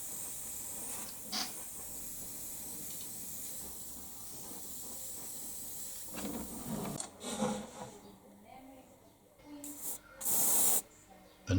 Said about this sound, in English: give the locomotive body a light coating of weathered black in order to take away the sheen of the factory finished model